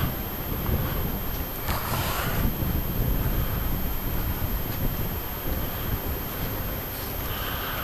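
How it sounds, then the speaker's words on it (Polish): Steady wind buffets the microphone in a continuous loud rush, with a few gustier swells and no voices. "wiatr nam troszkę będzie znowu rozrabiał"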